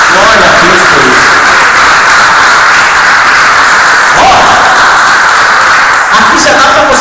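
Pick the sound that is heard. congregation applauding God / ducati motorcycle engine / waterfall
congregation applauding God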